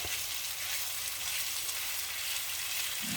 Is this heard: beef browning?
yes